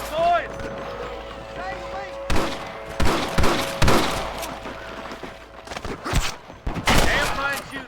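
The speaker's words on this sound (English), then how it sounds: "Damn fine shooting, boys." Rapid bursts of gunfire crackle through a Red Dead Redemption shootout, with sharp loud shots clustered in volleys, accompanied by a voice speaking over the action.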